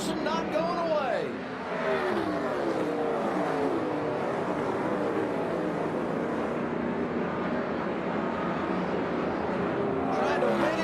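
NASCAR stock cars roaring around the track on a late lap, a continuous loud engine drone with shifting pitch as cars pass, under steady race commentary.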